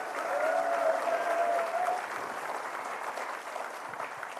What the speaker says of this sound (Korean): 우리 3분께 다시 한번 좀 응원의 박수 해주십시오.